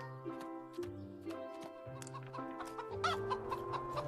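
Several chickens clucking and squawking close by, overlapping calls in a busy, continuous chorus.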